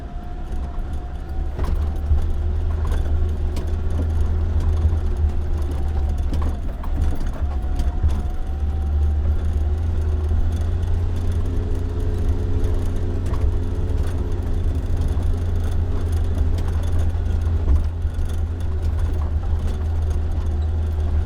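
Suzuki SJ 4x4 driving slowly over a rough off-road surface: a steady low engine drone runs throughout, with scattered knocks and rattles from the bumpy ground and no talking.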